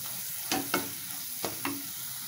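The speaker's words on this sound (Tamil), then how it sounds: "கொஞ்சமாக கரம் மசாலா, ரெண்டு நிமிஷம் நல்லா எண்ணெயில் வதக்கிக்கலாம் சிம்மில் வச்சு" Garam masala sautéing in oil in a pan over low heat for a chickpea curry, a soft steady sizzle broken by four quick spoon-stirring scrapes.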